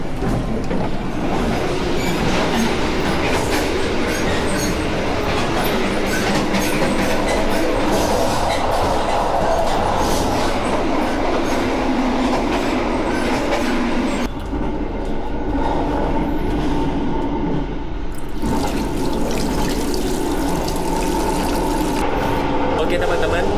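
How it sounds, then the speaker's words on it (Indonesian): Steady rolling rumble of the Argo Semeru express from Gambir to Surabaya Gubeng, heard from inside a carriage, continuous and loud with a brief shift in tone midway as the wheels and car noise change. "kereta api Argo Semeru dari stasiun Gambir ke stasiun Surabaya Gubeng"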